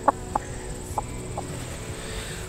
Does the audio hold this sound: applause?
no